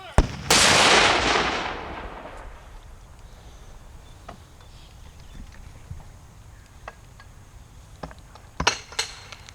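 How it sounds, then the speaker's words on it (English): A cannon fires during a Grand Army of the Republic service, giving one loud, booming blast that rolls and fades over a couple of seconds, followed by quieter outdoor ambience and a few sharp clicks and knocks nearby. "Cannoneer, commence firing. Fire."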